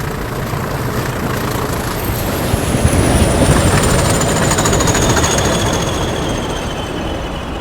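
A pair of diesel locomotives departs with a loud, continuous engine roar and rumble, joined by thin, high wheel squeals that rise and drift across the passage.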